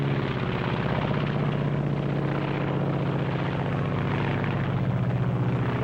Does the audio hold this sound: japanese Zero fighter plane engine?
yes